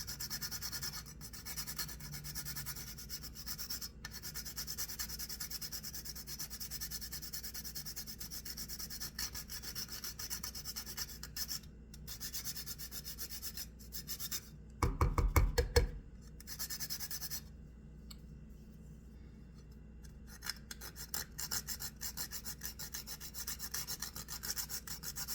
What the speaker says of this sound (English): I'm going to grate half a nutmeg